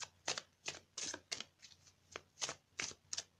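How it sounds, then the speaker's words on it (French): A deck of tarot cards being shuffled, with about nine crisp riffling bursts in quick succession, close and quiet, and no talk. "Bon, je vais couper le jeu."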